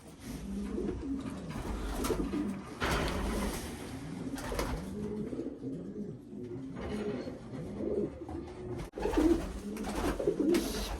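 Racing pigeons cooing in a loft, repeated low throaty coos overlapping from several birds, close and steady with soft rustling between calls.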